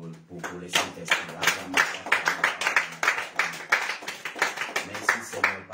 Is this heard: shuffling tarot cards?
no